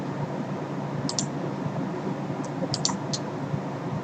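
A computer keyboard in a PC-98 paint program gets a few brief clusters of light clicking keystrokes, sparse and fairly close, over a steady background hiss.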